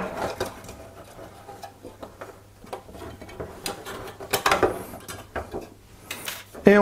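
Small plastic clicks, scrapes and rattles as the central fan is unclipped from a Be Quiet Dark Rock Pro TR4 CPU cooler by hand, irregular and close, over a low steady hum.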